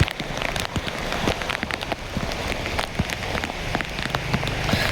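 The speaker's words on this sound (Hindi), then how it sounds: "बहुत ज़्यादा तेज़ बारिश हो रही है इस समय।" Heavy rain pours steadily in the mountains at Prakasheshwar Mahadev temple near Dehradun, with dense drops pattering loudly on surfaces and no voices.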